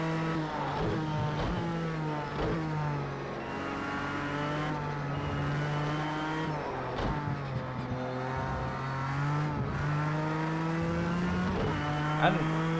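GTE-class race cars lapping Le Mans in the Project Cars 2 racing game, a sustained engine whine that rises and falls in pitch through repeated gear shifts, with other cars roaring past, loud and continuous.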